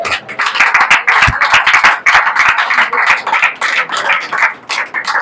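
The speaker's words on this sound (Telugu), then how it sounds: "చప్పట్లు కొట్టాలి" A church congregation claps along with a pastor's sermon: steady, rhythmic, fairly loud hand claps from many people continue without a break, with no talking over them.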